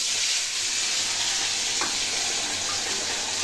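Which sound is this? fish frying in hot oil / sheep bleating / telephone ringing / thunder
fish frying in hot oil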